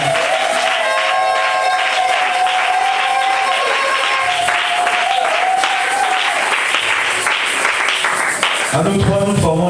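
Church concert audience applauding a youth department secretary, steady sustained clapping and crowd noise throughout, with music tones and cheers mixed in and a brief burst of louder activity near the end.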